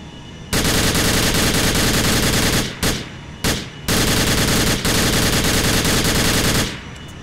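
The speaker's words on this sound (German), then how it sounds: "Die fünfte Waffe ist eine schallgedämpfte MP7." Rapid automatic gunfire from a suppressed MP7 in GTA IV with a Medal of Honor weapon mod, in long sustained bursts, loud and close, broken by a few brief pauses, with no voices.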